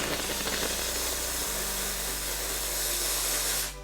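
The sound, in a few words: steam cleaner hissing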